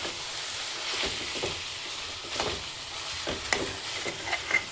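Chillies, mint and coriander are stirred into chicken haleem in a pan: a soft sizzle under irregular scraping and stirring strokes, close and moderately quiet.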